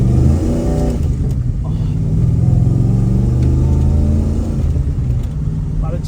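A Holden VN Commodore's 5-litre V8 rumbles and revs loudly up close, its deep engine note rising and falling in a steady drone while someone talks over it.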